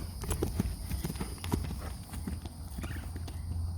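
A horse's hooves beat in a riding canter during a lesson, giving a steady, moderately loud run of clip-clop footfalls close by with no talk over them.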